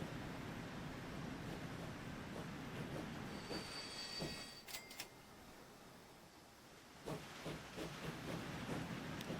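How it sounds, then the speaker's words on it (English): Train wheels squeal over a steady rolling rumble of railcars in the Transport Fever 2 simulation game, with the screech rising and fading and no voices present. "this train is riding the struggle bus a little bit in terms of its tractive effort"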